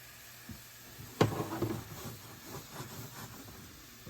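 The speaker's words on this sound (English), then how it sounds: "We're gonna deglaze with just a little bit of wine." A pan for white chicken chili deglazed with dry Sauvignon white wine: a sudden loud burst of hissing sizzle as the wine hits, then a steady bubbling steam hiss that settles, with no talking.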